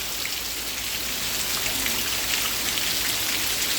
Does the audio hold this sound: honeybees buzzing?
no